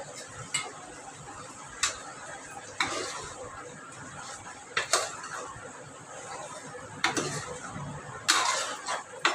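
Mutton is mixed with coconut powder in a pan, making a series of spaced metallic scrapes and clinks of a spoon against the pan over a faint background, with a soft voice now and then.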